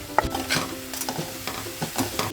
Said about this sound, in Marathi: आता कच्चेपणा जाईपर्यंत परतून घ्यायचं एक कापलेला कांदा घालायचा आहे दोन तमालपत्र घालायची